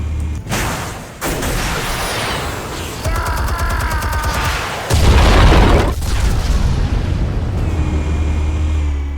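Explosives detonating in Batman: The Telltale Series make loud booming blasts with heavy low rumble, separated by brief pauses and mixed with whooshing and metallic game effects.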